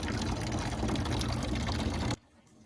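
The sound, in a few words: rainwater running from a 55-gallon barrel through a pipe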